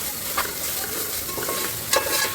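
Homemade ginger garlic paste sautés in a pan for a vegetable biryani. A steady, soft sizzle runs throughout, broken by a few scraping stirs of a spatula.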